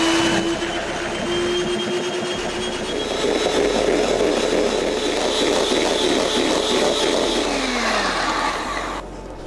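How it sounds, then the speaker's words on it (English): Half a cup of whipping cream is beaten to soft peaks, giving a steady, loud motorized whirr with a faint tonal whine that holds on for the whole stretch. "We need 1/2 cup of whipping cream. And then we just need to whisk it until we get some soft peaks"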